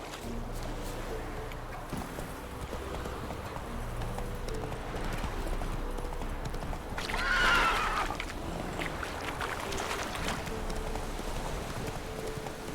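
Roach, a horse in the video game Witcher 3, trots with steady rhythmic hoofbeats and gives a short neigh in the middle, heard alongside game ambience.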